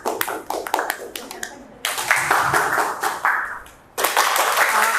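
A class performing pitched rhythmic hand clapping, with bursts of sharp claps in quick patterns that stop and restart, fairly close, with a voice talking between the clapping sections.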